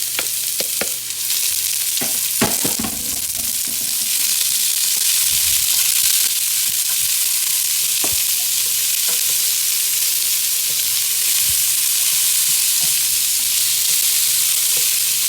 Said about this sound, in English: you want to cook your vegetables until they're soft